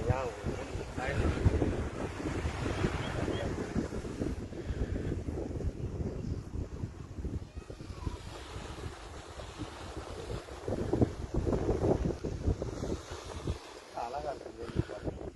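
Sea waves and strong wind on a shore, a continuous roar with heavy wind buffeting against the microphone, while a person talks over it.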